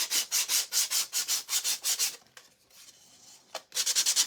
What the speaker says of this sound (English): I just want to kind of sand the edges just a little tiny bit